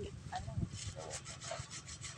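Sandpaper rubs back and forth on a gate in quick, repeated rasping strokes, fairly faint and close.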